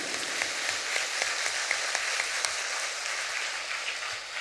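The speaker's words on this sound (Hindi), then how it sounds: "और एक बार जोर से ताली बजाकर प्रभु को धन्यवाद देंगे, जोर से, पूरी शक्ति के साथ।" A congregation at a New Year's Eve night vigil prayer service in Margherita, Assam, applauds together, a steady broadband wash of clapping with a few sharper claps standing out, held at even loudness throughout.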